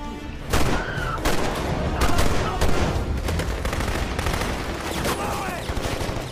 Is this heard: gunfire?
yes